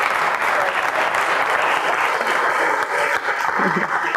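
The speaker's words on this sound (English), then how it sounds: "I think both of our guests deserve a very thorough round of applause" Sustained applause from a live audience at a talk on New York City's waterfront, steady and dense throughout without a break.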